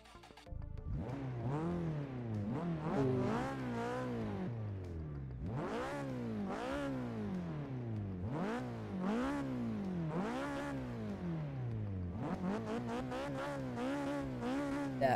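A Nissan 240SX engine in the Forza 6 video game revs repeatedly in rising and falling sweeps, about a dozen strong pulls in a steady rhythm, loud and close with no talking.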